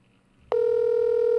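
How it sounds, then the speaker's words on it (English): A telephone rings during a prank call, a steady loud electronic ring tone that starts abruptly after a quiet moment and holds on. "I'll give it 2 more rings, then we'll try the next one."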